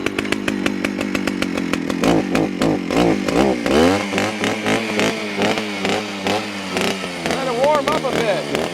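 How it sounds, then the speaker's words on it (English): Chainsaw cutting firewood on a hot day, a loud close engine running with repeated revs and bursts as it bites into wood, with voices talking over it in places. "I don't know how sharp the saws are. Don't even know if they want to run in this hot weather."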